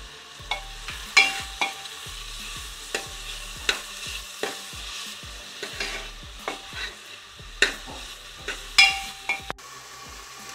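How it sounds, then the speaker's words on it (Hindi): Sliced onions cook in a pan with salt and turmeric while a spoon stirs them. The stirring gives repeated scraping clinks over a soft, steady sizzle, with no voices. "अच्छे से इसे मिक्स करके 5 मिनट के लिए इसको पकने दें, ताकि प्याज अच्छे से पक जाए"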